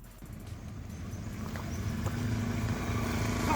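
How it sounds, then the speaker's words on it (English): A motorbike engine rumbles steadily on a slushy, muddy off-road patch with stones and mud puddles in Gujarat, a low droning hum growing gradually louder as it approaches, with no voices. "Sarvesh later followed me on his bike."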